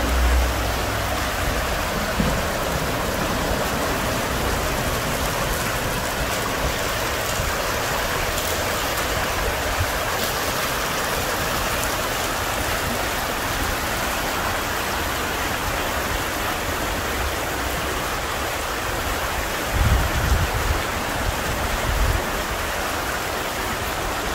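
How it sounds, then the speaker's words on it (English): Steady rushing of a rain-swollen creek, loud and close, a continuous broadband flow with no voices over it. "the creek is really running today because of all that rain"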